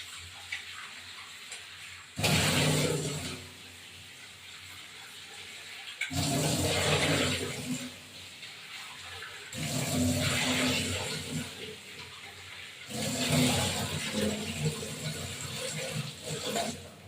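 Tap water gushes in four separate bursts as rohu fish is rubbed with salt and rinsed in a kitchen, with quieter splashing and handling between each rush of water and no talking.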